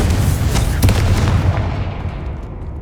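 The Confringo explosive spell goes off in Hogwarts Legacy, a loud booming blast with sharp cracks that rolls away and fades over about three seconds.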